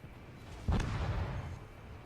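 A single heavy boom from the main guns of a Kongo battleship in World of Warships, one deep blast with a rumbling tail that fades over about a second.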